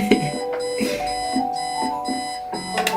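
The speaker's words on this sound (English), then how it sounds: "I should go for the alarm clock" An alarm clock ringing in the video game Kathy Rain, a loud, rapid, repeating electronic beeping pattern that carries on steadily through the whole moment, close and alone.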